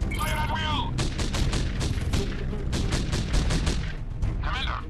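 Gunfire and artillery from the war strategy game Art of War 3: Global Conflict crack in rapid, dense bursts and booms throughout, loud and close, with short game voice lines at the start and end.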